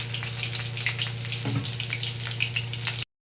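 Continuous sizzle of food frying in oil with scattered crackles and pops, a steady low hum beneath, and a brief scrape midway.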